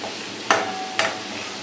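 Prawns frying in hot oil in a pan, a steady soft sizzle broken by two sharp scraping stirs about half a second apart, close and moderately loud.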